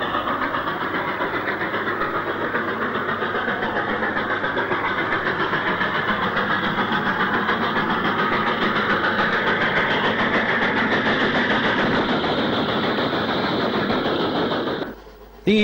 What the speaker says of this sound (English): almost full regulator will be applied to this 8F on its Class 8 unfitted iron ore train from